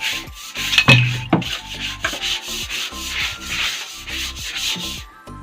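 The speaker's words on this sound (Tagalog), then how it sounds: "Uulitin ko na lang po itong sasabunin para matanggal po talaga yung dumi." Scrubbing a very dirty bathroom with soap, close rough rubbing strokes in an uneven rhythm, loud and with no talking, plus a brief clatter.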